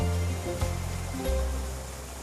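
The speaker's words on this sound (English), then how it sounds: "a green roof and the source of the pummeling waterfalls" Waterfalls pour from a green roof atop a monolith in a Chelsea Flower Show garden, a loud, steady rushing roar of falling water that fills the whole stretch without pause.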